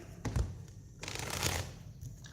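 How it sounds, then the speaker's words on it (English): Tarot cards being shuffled by hand: soft papery riffles and brushing in two or three short bursts, quiet and close, with a light thump at the start. "I shuffle 3 times."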